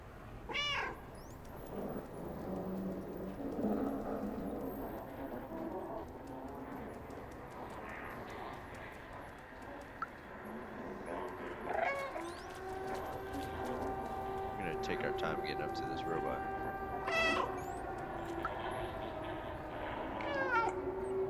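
Repeated cat meows from the video game Stray, several short chirpy calls spread out over quiet background game ambience, with a person talking in between.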